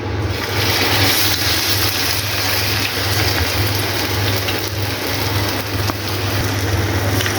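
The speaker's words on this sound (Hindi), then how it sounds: "अब चलते हैं फ्राई करने के लिए इनको। ऑयल जो है वो हमारा गर्म हो चुका है" Raw potato kebab patties fry in hot oil, giving a loud, steady crackling sizzle close up, with a low hum underneath throughout.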